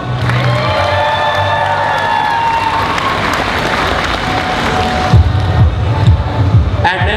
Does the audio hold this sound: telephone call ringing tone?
no